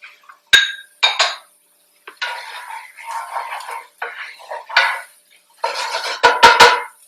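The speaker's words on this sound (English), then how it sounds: "and I'm adding the carrots." Carrots tipped into a pan of cooking onions make sharp clinks and knocks of utensils against cookware, followed by bursts of rustling and scraping as they are stirred in, close and fairly loud.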